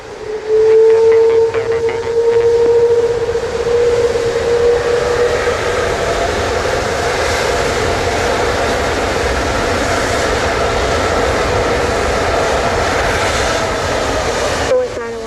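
An Airbus A330 airliner at Montego Bay airport in Jamaica produces a loud, sustained jet roar from nearby, with a steady high whine standing out early before it settles into a broad rumble that fills the whole stretch.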